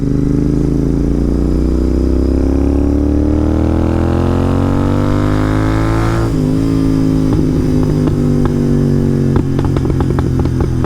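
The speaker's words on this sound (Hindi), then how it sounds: "ये एग्जॉस्ट की साउंड सुन के ना हाई हो जाओगे भाई" A Royal Enfield GT650 twin-cylinder motorcycle engine revs up, its exhaust note rising in a loud, sustained drone before easing off into a burbling, popping idle.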